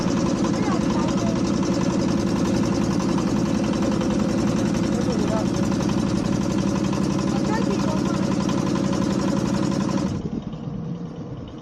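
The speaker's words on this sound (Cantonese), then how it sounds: "咁我哋會坐呢隻船過對面個小島" A free ferry carrying people and bicycles across to a small island off Shanwei drones with a steady loud engine throb close by, fading abruptly near the end, with voices faintly present.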